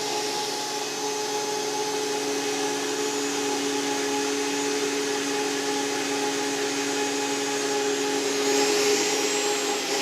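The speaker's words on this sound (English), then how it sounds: "You can see how the material goes through the blades and gets cut and gets blended in finer and finer." Robot Coupe MP 450 Combi Ultra immersion blender running steadily, a loud even motor whine with a constant tonal hum and blades churning, unbroken for the whole stretch with no talk.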